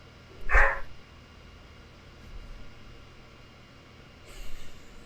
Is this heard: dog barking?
yes